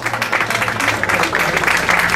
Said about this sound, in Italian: E dai un applauso ai signori, dai, lo merita